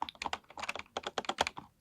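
Rapid clicking of light-up computer keyboard keys, a close, crisp flurry of uneven taps with no talking.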